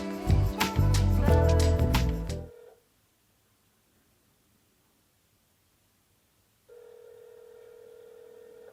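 A phone ringback tone heard while dialling the SIM in a Boox Palma 2 Pro, with a burst of loud electronic tones at the start, then silence, followed by a steady faint ringing tone near the end.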